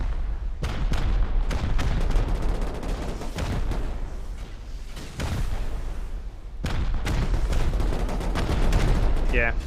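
Dense gunfire and explosions during a base raid in Rust, in a 7v7 tournament match: constant crackling shots and heavy booms pile up in a loud, sustained barrage with only short dips.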